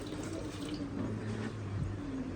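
Water being poured into a homemade dish and glass cleaner mixture containing caustic soda makes a soft, continuous low trickle, faint and close, with no talk over it.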